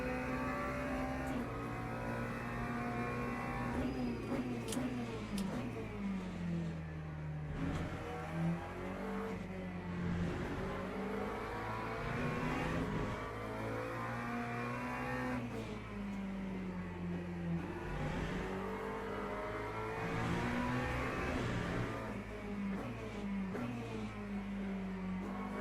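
McLaren race car in the Le Mans Ultimate sim racing game, its engine revving loudly and continuously through repeated upshifts and downshifts, pitch climbing and dropping as it accelerates and brakes through corners.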